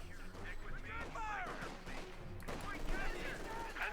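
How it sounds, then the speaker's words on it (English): Rapid bursts of gunfire and heavy thuds of mortar and artillery crack through a Company of Heroes 2 battle between Wehrmacht and US forces, with a commentator talking over the din. "Mortar on the way there."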